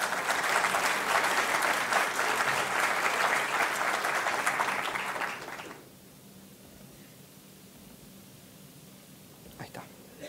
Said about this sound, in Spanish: Así que le damos un fuerte aplauso a Leonardo.